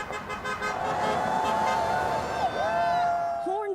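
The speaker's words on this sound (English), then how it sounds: "as the cars go by, they have been honking their horns in support" Passing cars honk their horns in support of striking Ford Kentucky Truck Plant workers on a roadside picket line, a long sustained horn tone sounding over steady traffic rumble and crowd noise.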